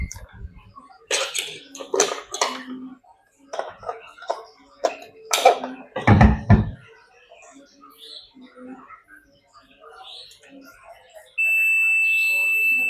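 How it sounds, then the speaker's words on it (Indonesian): After some handling noises and a few coughs, a multimeter's continuity buzzer gives a steady high-pitched electronic beep that holds continuously until the end, while testing a dead electric fly catcher. "yang penting berbunyi untuk bagian buzzernya"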